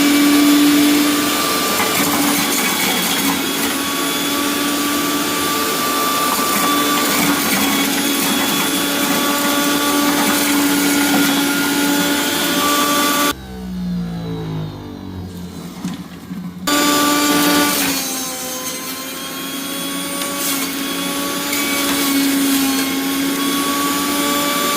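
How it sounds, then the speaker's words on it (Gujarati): A mixer grinder whirs steadily while blending fresh green herbs for a homemade hair pack, loud and continuous, cutting out briefly for a few seconds of near silence before the motor starts up again. "આ બધી લીલી વસ્તુ છે ને આની અંદર મિક્સરમાં કાઢીને હું હમણાં બતાવું"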